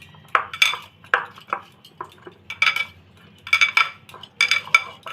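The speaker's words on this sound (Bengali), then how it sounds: "এখন ঢাকনাটা উঠিয়ে নিব।" Metal lid lifted off a pot of resting flour dough, giving a series of close clanks and clinks of metal on metal, in uneven bursts with short gaps, no talk.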